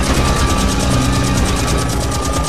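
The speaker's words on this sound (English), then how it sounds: "Listen, I hear airplanes. We're being tracked from the air." Airplanes droning overhead in the World War II game The Saboteur, a loud, continuous rumbling engine drone with a rhythmic pulsing throb that fills the scene without pause.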